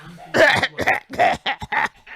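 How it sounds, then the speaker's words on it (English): A close, harsh fit of coughing, six or seven rapid hacking bursts in a row with barely a pause between them. "starts coughing uncontrollably"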